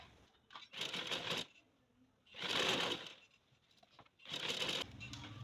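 A sewing machine stitches a butterfly-style trouser hem in three separate runs of steady, rapid needle clatter, each lasting about a second, fairly faint with quiet pauses between.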